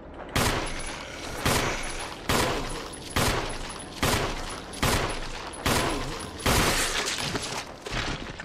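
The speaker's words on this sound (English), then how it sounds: "Shoot him, shoot him, shoot him." Gunfire from the zombie survival game Resident Evil: about eight loud, evenly spaced gunshot bursts, each with a sharp crack and a short decaying tail, roughly one per second, with no one talking over them.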